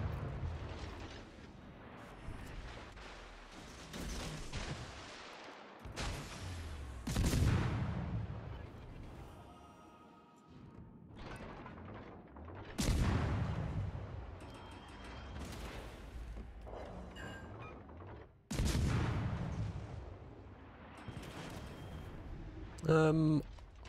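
Heavy booming cannon fire from enemy tanks in War Thunder, several separate loud blasts spaced seconds apart, each with a rumbling tail, under intermittent talk.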